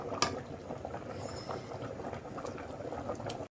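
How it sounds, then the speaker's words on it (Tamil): Goat leg gravy bubbling at a steady boil inside a covered pot on high heat, a dense continuous simmering hiss with soft popping bursts throughout, close and unbroken, with no voices. "நல்லா கொதிச்சிருச்சு குழம்பு."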